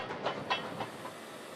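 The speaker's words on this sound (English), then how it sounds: "number 618 will be pulling a freight train just for photographers" Steam locomotive No. 618, a 1907 Oregon Short Line engine, hauling a freight train, heard as a faint, rhythmic run of rail clatter and chuffing beats over a steady hiss, with no talk.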